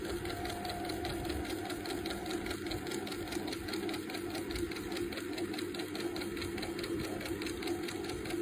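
A sewing machine runs steadily as it stitches around the edge of a fabric pocket, a continuous close mechanical whir with fine rapid needle clatter and no talking.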